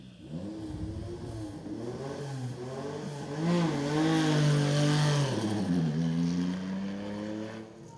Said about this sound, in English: So just getting the Porsche Carrera sorted out on the start line